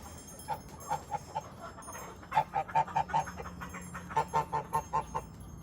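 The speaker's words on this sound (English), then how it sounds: "Here are the ducks." Ducks in a backyard quack in quick rhythmic bursts of four to six calls, rising and falling close by over a soft outdoor background, with no talking.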